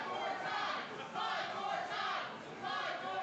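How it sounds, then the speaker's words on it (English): A large crowd at a Texas pro wrestling event chants in steady rhythmic waves, loud and near, with a few voices calling out over it. "you hear the crowd chanting one more time"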